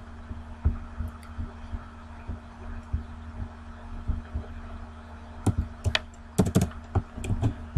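A computer keyboard being typed on for a keylogger demonstration, with irregular key presses that start sparse and turn into quicker bursts of clicks near the end, close and clear over a low steady hum.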